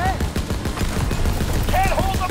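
Gunfire in the Call of Duty WWII campaign, a continuous rattle of shots under shouting voices and vehicle noise, with whistling tones rising over the din.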